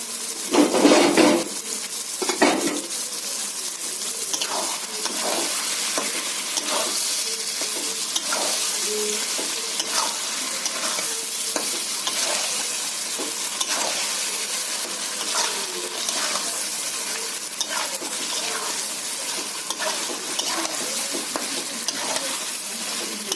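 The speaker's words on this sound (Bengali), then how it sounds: "এখন আমি মাংসটা দিয়ে দিচ্ছি, একটু কষে নেবো" Country chicken meat being fried and stirred into spice masala in a pan for a curry, a constant bright sizzle with regular scraping and clinking of a spoon against the pan, loudest at the start as the meat goes in, close, no talking.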